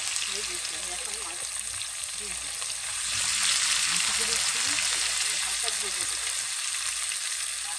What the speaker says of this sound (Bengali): বাদামি করে ভেজে ভেজে নেব লাল পেঁয়াজটা একটু দিয়ে